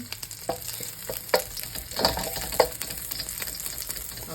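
Garlic sizzles and fries in a pan for a chicken liver and gizzard adobo, a steady hiss with a few louder stirring scrapes against the pan, close and without talk.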